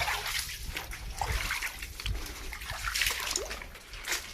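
Water splashing and trickling along a rocky stream bed at the Thiruvakkarai brook, a steady broadband rush with small splashes, fairly close and continuous throughout.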